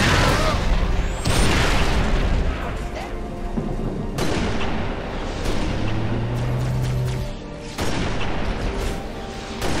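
Heavy weapon fire in the Halo Reach video game: dense booming blasts and gunfire over a loud, busy battlefield mix, with a low rumbling tone midway and voices faintly under the action.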